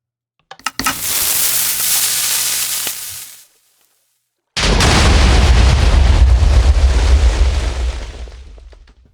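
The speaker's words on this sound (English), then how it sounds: "Let's press the fire button, and I expect to thoroughly blow up the entire world" Minecraft dispensers fire into loud, booming explosions: a first roaring burst of about three seconds, a short silence, then a longer, heavier rumbling blast that slowly fades, with no talking.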